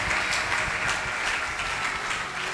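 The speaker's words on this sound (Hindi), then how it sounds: "जोरदार तालियां" Loud, steady applause from a church congregation at a pastor's sermon, dense clapping sustained for a couple of seconds with no voices on top.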